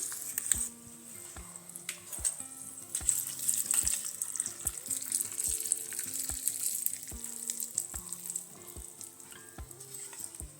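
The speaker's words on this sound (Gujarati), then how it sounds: "આ વઘારને આપણે રેડી દઈશું." A hot tempering of oil, mustard seeds, white sesame seeds and curry leaves is poured over a snack, giving a close, continuous sizzle with scattered crackles that rises and gently fades. Quiet background music runs beneath.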